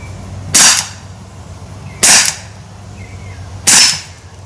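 Three sharp BB gun shots fire at evenly spaced intervals, each a loud crisp crack plinking into a target of junk mail, close up against a low steady hum.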